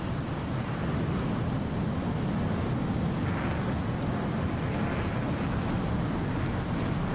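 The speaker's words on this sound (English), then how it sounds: "It's full afterburner" Simulated F/A-18C Hornet jet engines at full afterburner during a carrier launch in the DCS flight game, a loud steady broadband roar that holds constant throughout with no talking.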